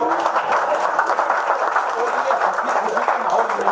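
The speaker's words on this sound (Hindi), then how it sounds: "विनोद के लिए ताली बजाई" An audience at a Hindi comedy show claps in a brisk, continuous patter, with voices talking over the applause the whole time.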